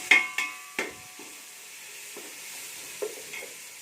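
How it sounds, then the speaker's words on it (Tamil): Crushed unpeeled garlic cloves dropped into a pan of tomatoes and stirred, a few sharp spoon scrapes and clatters over a soft, low sizzle, fairly quiet and close. "ஒரு அஞ்சாறு பல் பூண்டு தட்டி வச்சுருக்கேன் தோல் எடுக்காமல் அதை சேர்த்து வதக்கிக்கலாம்"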